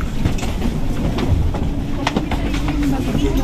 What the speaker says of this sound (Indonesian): Ini dia di dalam kereta api cepat Jakarta Bandung.